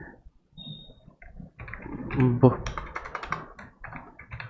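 Computer keyboard keys clacking in quick irregular bursts while coding in a code editor, fairly close, with a soft voice heard briefly between the typing.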